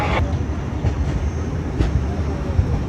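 A passenger train pulls out of Mathura Junction, heard from inside the coach as a continuous, fairly loud low rumble of wheels on rails with faint rhythmic clatter.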